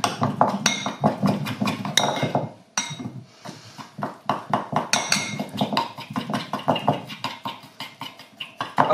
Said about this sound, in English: All I'm going to do is take a teaspoon and mix this together.